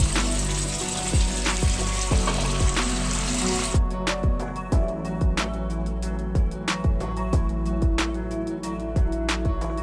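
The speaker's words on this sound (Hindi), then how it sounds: "अब गोभी को मैं फ्राई करूंगी।" Boiled cauliflower fries in oil with a continuous bubbling sizzle, while repeated sharp clinks and taps of a utensil against the pan come at a regular pace throughout; no talking.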